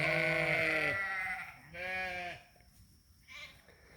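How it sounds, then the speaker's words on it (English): A spotted ewe with two lambs bleating nearby, three drawn-out quavering bleats of varying length, the first loudest, out in the open on a farm pasture. "There's a spotted ewe. She's got two nice lambs."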